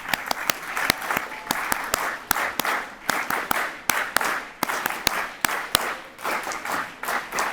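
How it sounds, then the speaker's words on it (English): A graduating high school class claps together in unison, the Phoenix clap, at a ceremony, sharp synchronized claps in a steady, accelerating rhythm with crowd noise swelling between them, loud and close. "Class of 2025, can we give our principal the Phoenix clap?"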